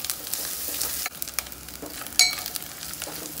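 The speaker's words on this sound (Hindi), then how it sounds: "तो तेल हो गया गरम, अब इसमें मैं ये प्याज डाल दूंगा।" Onion fries in hot oil for a chicken curry, giving a dense, crackling sizzle with sharp spits and a brief stirring clatter, close up and loud, without any talk.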